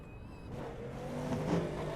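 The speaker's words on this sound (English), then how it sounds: "I love hearing this engine fire up." A Super Formula race car engine in the iRacing simulator starts up with a rising whir, then settles into a steady mechanical hum that builds slightly in level.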